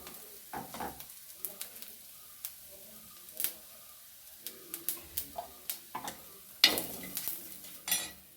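Chopped shallots frying in a pan with chili powder, a soft scattered sizzle broken by intermittent stirring scrapes and clicks of a spoon against the pan, fairly quiet and close, with no talking.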